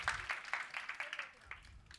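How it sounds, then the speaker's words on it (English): Audience applause at a training event in Los Angeles, a short burst of scattered hand claps, moderately near, fading toward the end. "Give her a round of applause"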